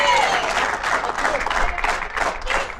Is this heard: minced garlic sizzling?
no